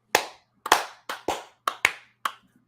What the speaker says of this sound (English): Can we have some baby face claps for these hardworking gentlemen?